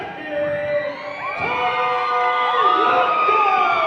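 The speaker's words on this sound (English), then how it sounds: "What an ovation for Todo Loco here, folks." A wrestling crowd roars an ovation for the luchador Todo Loco, a dense, sustained wall of cheering and shouting voices with high whoops rising through it.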